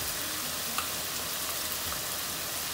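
Onions sauté in a pan for a dhaba-style egg curry, a continuous close, dense sizzle with a few faint pops and no voices.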